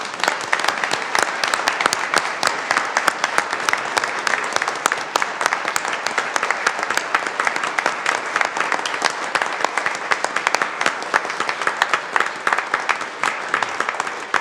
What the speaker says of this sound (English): If we can give them maybe a round of applause.